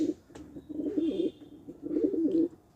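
Racing pigeons coo nearby in two rolling, throaty phrases separated by a short pause, close and moderately loud with no talk.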